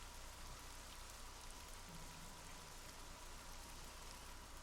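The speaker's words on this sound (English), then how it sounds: "Rain starts to fall." Steady rain hisses evenly throughout, faint and unchanging, playing as background ambience during a Dungeons & Dragons Tomb of Annihilation session.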